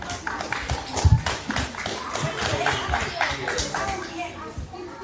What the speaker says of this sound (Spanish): Fuerte aplauso para Matías.